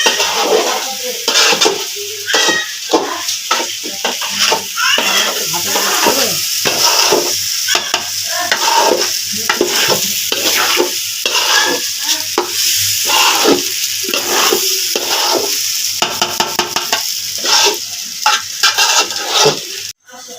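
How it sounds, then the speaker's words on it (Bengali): Rice frying in spiced oil in a pot for homemade biryani gives a loud, continuous sizzle with rhythmic scraping strokes of a spoon against the pot throughout, close by and without speech. "চালটা ভাজা ভাজা ভাজা হবে না? এই যে সব কিছু দেবো না, হচ্ছে চাল ভাজা"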